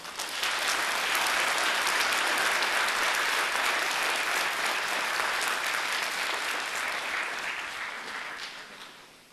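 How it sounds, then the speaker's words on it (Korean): Sustained applause from a sizable audience at an author's book presentation, dense and steady for several seconds before gradually thinning out and fading. "여러분, 다 함께 굿 소사이어티 출발을 위해서 박수 한번 보내주세요"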